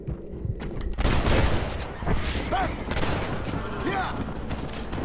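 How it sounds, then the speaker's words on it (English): Gunfire from a Red Dead Redemption shootout, heavy overlapping shots in a dense fusillade that stays loud throughout, with voices shouting over it. "Stop shooting at me!"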